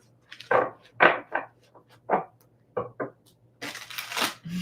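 Egyptian tarot cards are shuffled by hand in a quiet room, producing a series of short, crisp riffling and slapping bursts spaced unevenly, ending in a longer ruffle.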